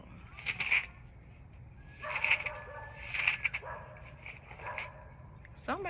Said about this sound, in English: Somebody dog barking.